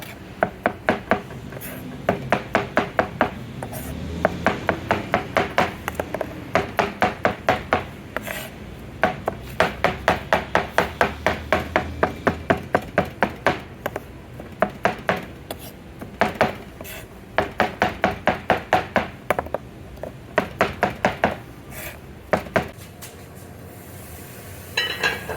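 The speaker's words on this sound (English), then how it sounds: "I'm going to go ahead and continue chopping" A knife chops food on a cutting board while making Jamaican beef patties, steady rapid knocks in repeated runs with short pauses between them, close and clear.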